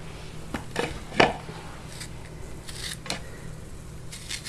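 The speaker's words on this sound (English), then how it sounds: "And I just slice them up" A kitchen knife slicing washed strawberries for freezer jam, giving a few soft, close cuts and taps against a board, one sharper knock near the middle, with quiet room noise between and no talking.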